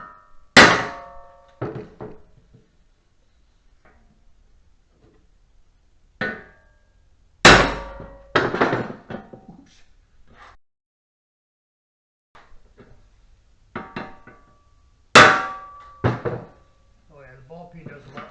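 Ball peen hammer striking metal while working on a 1954 Fargo truck, sharp ringing clanks and thunks in scattered bursts, close and loud, with pauses between groups of blows.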